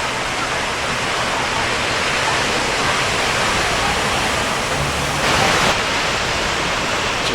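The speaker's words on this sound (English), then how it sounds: "Here's the little fountain" Fountain at the point in Point State Park, Pittsburgh, where the Monongahela and Allegheny rivers meet to form the Ohio; a loud, steady rush of falling water fills the whole stretch, briefly swelling louder near the end.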